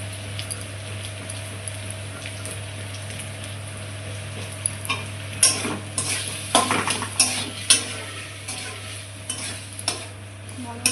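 Peas with turmeric and salt stirred in a frying pan, starting quiet, then a busy stretch of close scraping, clinking spoon strokes and faint sizzle over a steady low hum.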